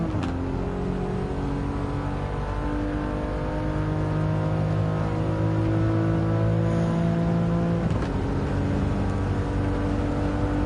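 Race car engine from Gran Turismo 7 climbing a hill on automatic transmission, loud and steady with rising harmonic tones as it accelerates, then a brief shift dip near the end before pulling again, with no talk.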